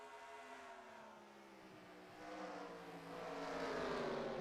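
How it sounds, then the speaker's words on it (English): Race cars in a racing video game drone past, their engine notes sliding up and down in pitch as the drivers lift off the throttle into a corner; moderately loud, with no talking. "I'm hearing them backing out of the throttle a lot sooner now into the corner than they were in the early stages of this race"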